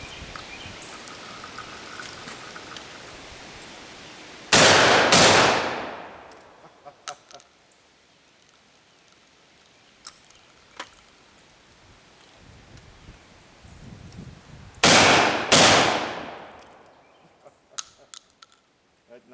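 Black powder firearms fire outdoors in two loud blasts, a single shot followed later by a quick double, each ringing out and decaying over a breezy background with scattered faint clicks.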